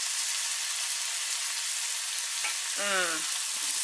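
Chanterelle mushrooms fry in salted butter with a steady, bright, close hiss of sizzling fat that runs unbroken, with a brief squeak near the end.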